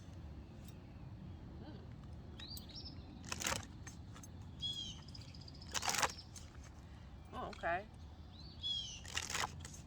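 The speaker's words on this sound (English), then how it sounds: "I don't know if y'all heard that loud bird noise." Several loud, harsh blue jay calls ring out at intervals outdoors, fairly close, over a low rumbling background, with a brief spoken remark.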